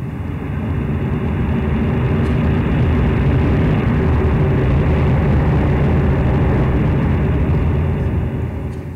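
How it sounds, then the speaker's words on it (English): A healthy honeybee colony buzzing inside a hive, a loud, steady, dense drone that holds unbroken from start to finish with no talk over it. "This is the sound of a healthy honeybee colony."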